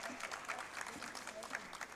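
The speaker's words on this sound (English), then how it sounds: "A huge round of applause, guys." Audience applause at a national conference of chartered accountants, a brief patter of clapping from a seated crowd heard under a voice speaking over it.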